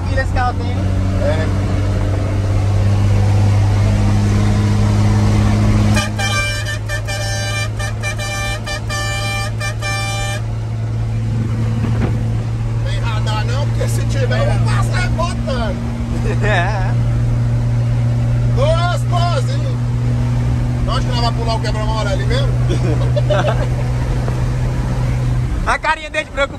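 A heavy 14,000-kilogram truck with its engine revved hard, a loud steady drone with a horn-like tone sounding close throughout, with people talking over it.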